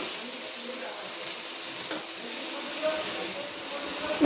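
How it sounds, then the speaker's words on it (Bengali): Chopped tomatoes sizzle and fry in a hot pan while being stirred for a shutki fish dish, a steady close hiss with faint scraping of the spoon. "এই টমেটোটাকেও আমি একটু কষাবো। একটু নেড়ে চেড়ে নেবো।"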